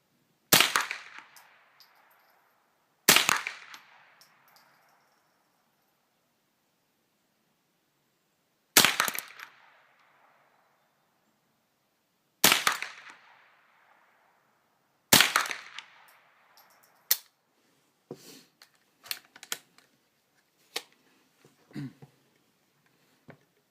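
Rifle shots from Winchester bulk pack .22 rounds fired at a target ring out as five sharp, widely spaced cracks, each followed by a brief decay. A scatter of fainter clicks and knocks comes after them.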